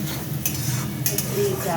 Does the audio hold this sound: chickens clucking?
no